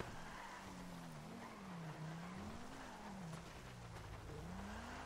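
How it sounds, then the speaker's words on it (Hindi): In a video game, a car drifts with a continuous wavering tire squeal, rising and falling in pitch over a low engine drone, fairly faint but steady throughout. "गेम है तभी तो मैं इस तरह ड्रिफ्ट कर रहा हूँ"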